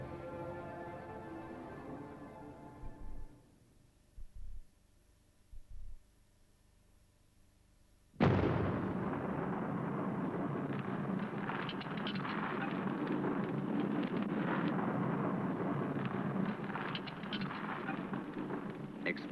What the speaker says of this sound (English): Explosives loosen the earth that has lain undisturbed for countless centuries.